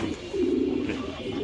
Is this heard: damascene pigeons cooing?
yes